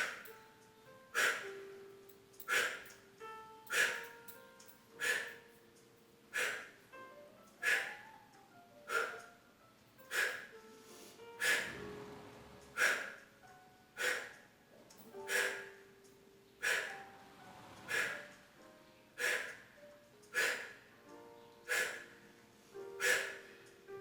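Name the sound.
short forceful breaths during a Pilates exercise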